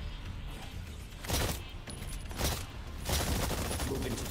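Gunfire in the video game Exoprimal, a steady loud barrage of shots under a dense din, with a few heavier bursts standing out.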